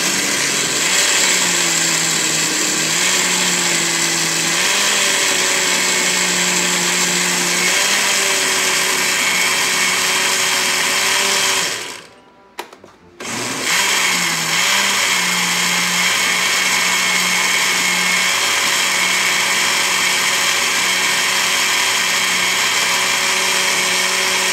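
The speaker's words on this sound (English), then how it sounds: "you do not have to put your hand on the blender top" Blender running loud and close while blending carrot and pineapple juice, a steady high whir with shifting pitch, briefly cut off about halfway before starting again.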